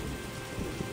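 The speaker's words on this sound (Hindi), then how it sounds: "कई दिनों से लगातार बारिश हो रही थी।" Continuous rain falls with a low, rolling thunder rumble beneath it, a short storm sound effect with no voices.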